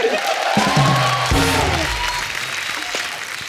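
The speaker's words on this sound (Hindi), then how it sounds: "इनके लिए जोरदार ताली हो जाए" A studio audience at a televised comedy talk show bursts into loud, sustained applause mixed with some cheering, with a brief musical sting sounding over the clapping before it gradually thins out.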